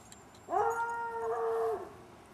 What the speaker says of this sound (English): And there's a howling dog.